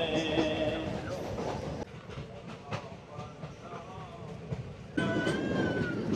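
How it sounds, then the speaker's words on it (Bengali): Passenger train pulling out of New Haflong station, a low continuous rumble with rhythmic rail clatter and squealing tones, joined by faint background voices and a louder surge near the end. "ট্রেন ছাড়লো।"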